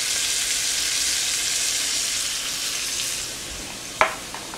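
Mahi-mahi seasoned with salt and pepper fries in a pan, giving a steady, close sizzle that eases slightly and is broken near the end by a single utensil clink.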